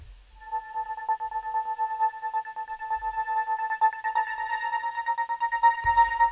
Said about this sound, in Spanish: Este sintetizador es para el drop, para el break. Suena así.